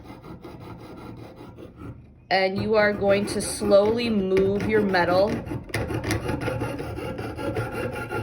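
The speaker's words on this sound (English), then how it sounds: "I got to start sawing to my left" Someone talks over a steady rasping of a fine saw blade working through metal, the short strokes continuing under his voice.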